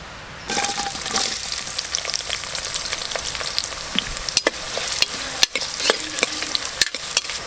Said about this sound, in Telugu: సన్నగా కట్ చేసిన ఉల్లిగడ్డలు వేసుకోవాలి